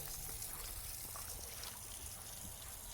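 Water runs from a reclaimed cast iron sink at an outdoor vegetable wash station down into the drain, a steady, close rushing trickle with no talk.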